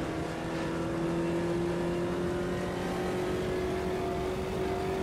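A Beetle race car engine in the racing game Automobilista 2 revs high and steady, its droning pitch climbing slightly as it spins without catching a lower gear; no talking.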